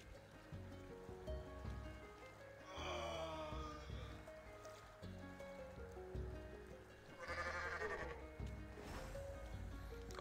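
A goat in the video game Goat Simulator bleats twice in drawn-out, wavering cries over quiet game music and ambience.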